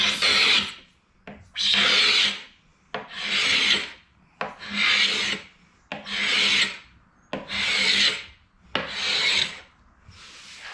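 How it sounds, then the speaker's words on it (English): A hand scraper works dark stain off a veneered wooden nightstand top in seven rhythmic strokes, each a loud, close, rasping scrape with brief silent pauses between passes. "whether I can carefully scrape that out without going through the veneer"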